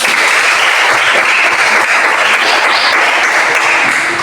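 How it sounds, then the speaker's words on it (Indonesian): A classroom of students applauding together, a loud, even burst of clapping that holds steady for a few seconds without talk. "Luar biasa, tepuk tangan."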